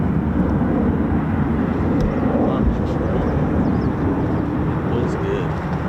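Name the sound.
US Air Force F-15 or F-35 fighter jet taking off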